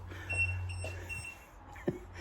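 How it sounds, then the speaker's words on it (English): Faint, thin electronic beeps from an electric kettle on 240V power while wild camping sound quietly a few times in a calm space, with a low hum beneath and a soft knock near the end. "That beeping is the kettle."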